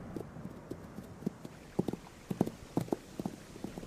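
Wild horses walk on firm ground, their hooves giving an uneven clip-clop of soft knocks at a moderate distance, with a few louder steps in the middle and no talking.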